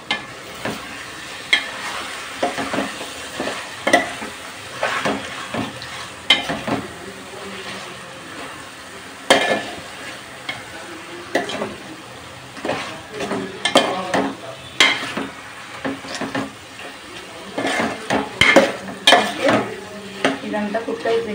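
Chicken for pulav sizzles in a pan while a spoon repeatedly scrapes and clatters against the metal, the stirring loud and irregular over a constant frying hiss.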